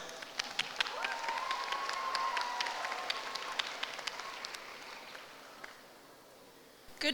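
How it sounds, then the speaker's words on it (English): An audience at a junior school debate showcase applauds steadily for several seconds, a dense spread of many hands clapping in a hall, fading toward the end before a brief knock. "Big round of applause, guys."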